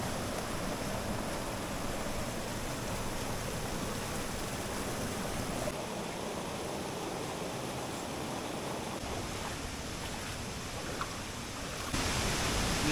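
Waterfall rushing on a river expedition in Ulu Baram, Borneo, a steady broadband roar of falling water, fairly distant and even throughout, with no talk.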